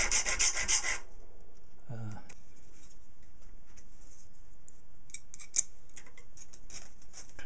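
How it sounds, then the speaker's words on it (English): A hand file scrapes a homemade cutter for copper-coated circuit board, with a quick burst of rough strokes at the start followed by fainter intermittent rasping against quiet background. "What I want to do is file it so that there is no flat land."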